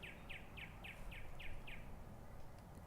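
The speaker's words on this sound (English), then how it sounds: "Birds," Birds chirp outdoors in a steady ambience bed, a run of seven quick, evenly spaced tweets over low background noise from air conditioning and wind, then the calls stop.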